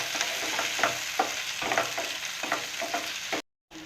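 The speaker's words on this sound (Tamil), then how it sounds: "இப்போ நம்ம எடுத்து வச்சிருந்த வெங்காயத்தை சேர்த்துக்கலாம்" Small onions frying and being stirred in a pan for Pallipalayam chicken: a steady, close sizzle with periodic scraping stirs, continuous throughout and ending in a brief gap of silence.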